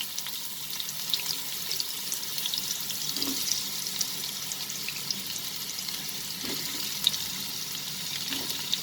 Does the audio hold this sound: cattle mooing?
no